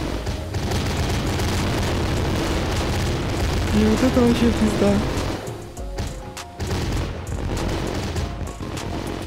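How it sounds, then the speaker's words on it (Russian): Fireworks burst in the video game My Summer Car after being set off indoors, a dense rolling barrage of booms and crackles that thins to scattered pops, with someone talking over it. "Большинство фейерверков просто улетело на улицу. Я не знаю, сколько это будет взрываться."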